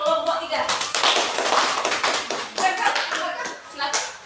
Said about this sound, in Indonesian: Kita beri tepuk tangan buat kelompok 3